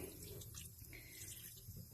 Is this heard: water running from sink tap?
yes